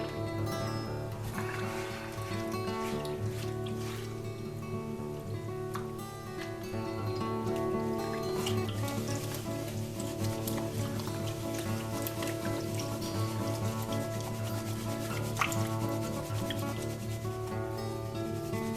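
Paydirt with black sand is swirled and washed in water in a gold pan, a continuous wet rubbing and sloshing with gritty scrapes, steady and close.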